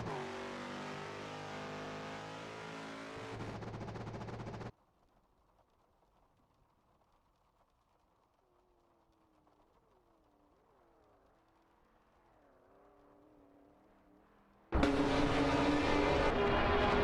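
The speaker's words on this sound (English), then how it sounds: "Baker Girone are fiercely contesting Pate, both in Chevrolet Camaro 69" Race cars, including 1969 Chevrolet Camaros, in a racing video game: a faint rising and falling engine whine sits in a quiet stretch between loud bursts of music at the start and end.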